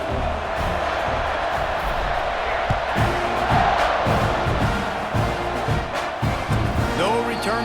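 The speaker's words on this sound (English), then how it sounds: "You think this crowd's going to get loud when their defense comes on the field?" Loud, continuous roar of a stadium crowd cheering and yelling in the college football video game EA Sports College Football 26 before a kickoff, with a commentator's voice over the din.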